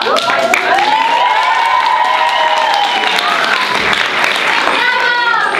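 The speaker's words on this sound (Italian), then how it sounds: "E appunto l'applauso è opportuno perché Cecilia sta svenendo" Audience applause at the Giorgio Gaber award ceremony for new generations in Montecchio Maggiore: loud, sustained clapping from a full hall, mixed with cheering and shouting voices, including children, throughout.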